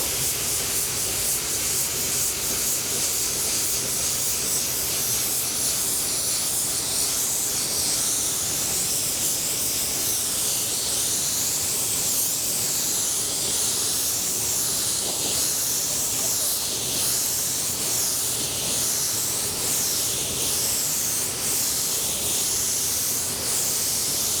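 A spray gun lays down a sealer coat on a car panel before the base and clear coats, giving a steady, loud continuous hiss that runs unbroken from start to finish with no talk.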